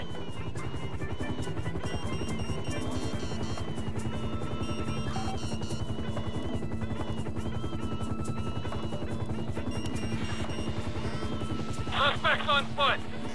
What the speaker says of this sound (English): I see the chopper.